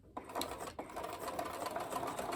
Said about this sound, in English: which also includes sewing over the bit of tie and catching that in there